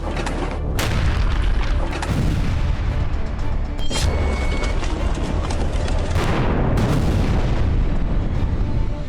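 Heavy booms from an Israeli air force bombing campaign over Gaza and the West Bank roll one after another, deep rumbling blasts overlapping continuously with a few sharper cracks, loud and sustained.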